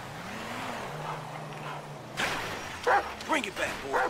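A dog riding on a motorcycle in the video game GTA V barks a few times in quick succession over a droning engine, with someone talking in German around it.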